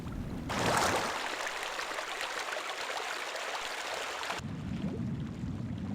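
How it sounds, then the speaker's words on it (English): Muffled underwater ambience from the video game Thief: The Dark Project, a dull, low-passed watery rush like a stream heard through water, steady and enveloping, with the sound opening up briefly before and after the submerged stretch. "got a low pass filter on it when you're under the water"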